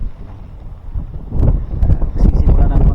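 Strong wind at Bonuan-Tondaligan Beach in Dagupan, a loud, steady roar buffeting the microphone that rises partway through and stays heavy, with rumbling gusts.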